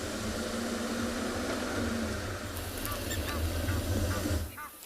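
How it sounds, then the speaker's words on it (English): Egyptian geese honking and blacksmith lapwings giving their metallic clinking calls at a dam in South Africa, a dense outdoor chorus of repeated calls at moderate distance over steady ambient noise. "Egyptian geese, blacksmith lapwings here at Treehouse Dam"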